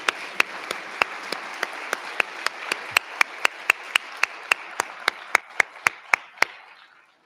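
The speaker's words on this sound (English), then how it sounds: "Let's give everybody a round of applause for their hard work." Applause for senior-division participants at the 2022 Flint Regional Science and Engineering Fair. One sharp, close clapper strikes in an even, brisk rhythm over a softer wash of crowd clapping, which thins out and stops after about seven seconds.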